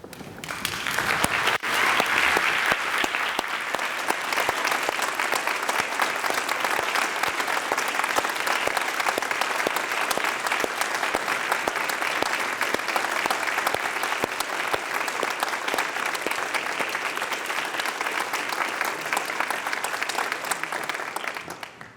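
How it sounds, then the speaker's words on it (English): Graduates at a Royal Conservatoire of Scotland ceremony give their audience sustained applause, a dense, steady wall of clapping from a large crowd that holds for over twenty seconds before tapering at the end. "can I ask you to be upstanding and to applaud your audience"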